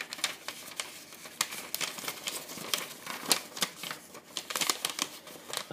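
Sheet of paper folded into thirds for an origami bellows with an S-shaped fold, giving a quiet run of crisp crinkles, taps and sliding rustles in an irregular rhythm, close by and with no one speaking.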